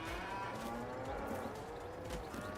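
Cattle low and moo from a cow pasture in the farming video game Farming Simulator 22, drawn-out bovine calls overlapping one another against a dense, steady background hum.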